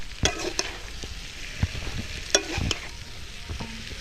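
Pasta is stirred in a frying pan with a utensil, giving repeated scrapes and knocks against the pan over a low, steady sizzle, close and moderately loud.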